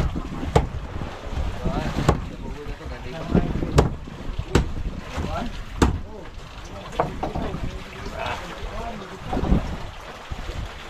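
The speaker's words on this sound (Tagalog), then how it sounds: "Ang hangin." Wind rushes past the microphone in uneven gusts over watery, boat-like rumble, with sharp knocks and a voice speaking briefly.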